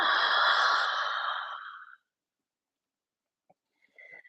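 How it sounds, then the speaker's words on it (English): Long audible exhalation during a yoga session, a breathy sigh lasting about two seconds and fading out, followed by silence and faint small sounds. "there's another opportunity to do an exhalation that makes a little noise"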